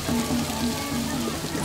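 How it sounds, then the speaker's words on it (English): Heavy rain pouring down during a Balinese royal wedding, a dense steady wash of drops on surfaces with no voices. "It's pouring with rain."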